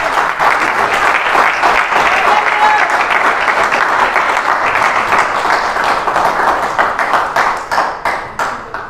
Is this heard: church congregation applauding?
yes